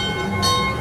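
A mine-themed amusement park train ride at Knott's Berry Farm rumbles along with a steady rolling drone and faint mechanical whine, heard briefly without talking.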